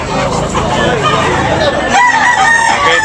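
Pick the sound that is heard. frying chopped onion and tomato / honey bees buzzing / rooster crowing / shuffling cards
rooster crowing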